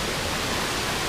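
Rushing water from the Amatong waterfall and clear spring-fed river in Sitio Piit, Batangas, a loud, unbroken broadband roar filling the space with no voices over it.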